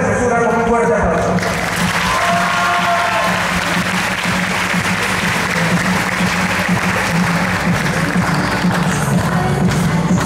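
A crowd applauds loudly and steadily during a staged presentation, with brief voices and tones at the start and background talk mixed under the clapping.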